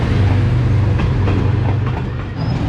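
The Jaffar Express train rolls through Kot Lakhpat railway station, with a loud, close, continuous rumble and clickety-clack of wagons over the rails that eases slightly near the end.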